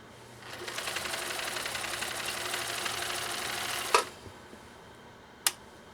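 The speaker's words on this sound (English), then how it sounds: "let's see how Cindy's machine does with 8 layers of U.S. Army grade canvas" A 1962 Husqvarna Viking 19E sewing machine stitches through eight layers of U.S. Army grade canvas, a steady close rapid whirring and ticking for about three seconds, followed by two sharp clicks.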